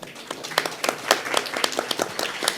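Scattered hand claps from a small conference audience, uneven and fairly sparse, a short burst of applause with no talking.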